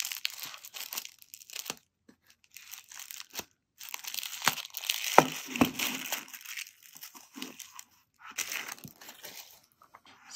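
A stationery package sealed with glittery wax is torn open up close, with bursts of crinkling paper and tearing interrupted by short quiet pauses, no voices.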